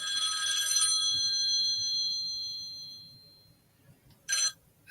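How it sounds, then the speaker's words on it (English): A telephone rings during a home sewing chat, its bell trilling steadily for about a second at moderate volume, then fading out, with a brief sharp ring burst near the end and no voices. "Sorry, phone ringing."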